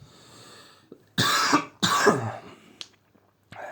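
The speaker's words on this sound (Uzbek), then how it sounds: "ozgina yo'tal kelyapti" A person nearby gives two strong, harsh coughs in quick succession, followed by brief throat-clearing sounds and quiet breaths.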